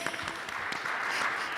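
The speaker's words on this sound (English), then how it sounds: "So round of applause for the Oregon legislature" Conference attendees applaud at a Cascadia transportation event, a moderate, continuous patter of many hands in a large room.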